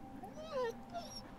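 A dog whimpers in the video game Valiant Hearts, a few soft high whines rising and falling, quiet beneath someone talking.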